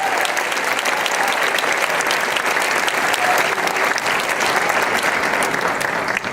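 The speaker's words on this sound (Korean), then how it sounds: "큰 박수로 또 큰 손으로 감사하겠습니다" Loud, continuous applause from a church congregation sending off a departing missionary after twelve years of service; a full room clapping steadily for the whole span.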